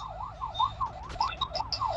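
A police vehicle siren wails in steady rising and falling sweeps, fairly loud and close, with a few sharper electronic chirps in the second half and no talking.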